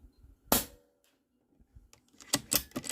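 A DAR GEN-3 .22 PCP air rifle fires one sharp, sudden crack, followed by quiet and then a cluster of faint clicks and knocks from handling or the pellet striking.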